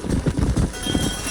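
Rhythmic clip-clop of horse hooves on the ground in the Western video game Red Dead Redemption, a quick steady trot close by with no talking.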